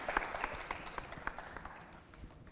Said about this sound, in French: Applaudissements pour le recevoir,